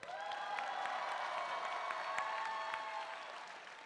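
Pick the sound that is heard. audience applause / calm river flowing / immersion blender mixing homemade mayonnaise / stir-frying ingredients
audience applause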